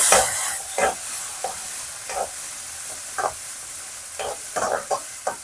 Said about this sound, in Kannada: ಒಂದು ಟೊಮೆಟೊ ಹಾಕ್ಕೊಳ್ತಾ ಇದ್ದೀನಿ ಇದನ್ನು ಕೂಡ ಚೆನ್ನಾಗಿ ಹುರ್ಕೊಳ್ಳೋಣ